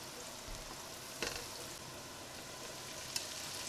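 Egg devil mixture fries in a pot as salt is stirred in, giving a steady soft sizzle with a couple of faint scraping knocks from the stirring, quiet and without talk.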